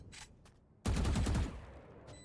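Gunfire shooting through a wall in the video game Valorant during an esports match, a sudden loud burst of rapid shots lasting about half a second, with brief faint sounds before and after.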